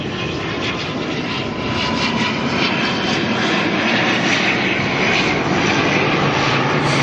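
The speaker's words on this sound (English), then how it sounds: "we'll follow the ATR in until it disappears behind the 747" An ATR turboprop airliner approaching Auckland Airport, heard as a steady loud broadband engine roar that holds and swells slightly throughout, with no talking.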